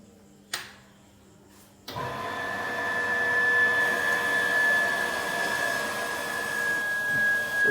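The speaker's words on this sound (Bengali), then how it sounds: "মেশিনটা চালু হয়ে গেল, এটা রানিং মেশিন।" A reverse osmosis water filter machine starts up with a click, then runs as a steady whirring hum with a thin high whine, loud and constant, with no talking.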